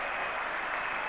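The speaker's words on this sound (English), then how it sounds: "the crowd has gone noisily berserk" Cricket crowd at a 1981 Ashes Test erupts in dense applause and cheering after a wicket falls, a loud continuous roar of many clapping hands with no talk over it.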